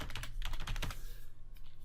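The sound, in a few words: typing username on a computer keyboard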